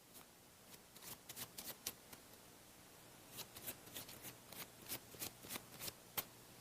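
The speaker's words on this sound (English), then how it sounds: "So while I'm talking, I can easily shuffle the cards and shuffle straight to that brake, controlling my blue-backed ace of spades." Blue-backed deck of playing cards being shuffled by hand in a close-up magic routine, a series of quick crisp riffles and snaps in irregular bursts, near and quiet.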